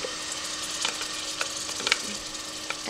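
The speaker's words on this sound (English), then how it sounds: "gently and slowly place the pasta and mix as we go" Pasta is mixed slowly in a pan. Scattered scrapes and light clicks from the utensil sit over a soft, continuous sizzle, up close and without talk.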